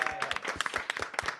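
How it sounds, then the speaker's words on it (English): A studio audience claps at a live football squad announcement show, a brief burst of close, distinct hand claps from a small group, quick and uneven. "Round of applause."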